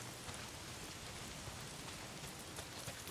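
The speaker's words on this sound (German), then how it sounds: "Anscheinend, es regnet gerade" Steady rain pours in the open-world game Days Gone, a dense, even hiss of drops on surfaces with no pauses, filling the whole stretch at a low, constant level without speech.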